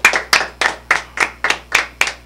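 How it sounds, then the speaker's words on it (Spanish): A small group claps in a rhythmic, even beat for young musicians, about eight sharp, close bursts of synchronized hand claps in a row, with no voices. "muchas gracias a estos muchachos, un aplauso"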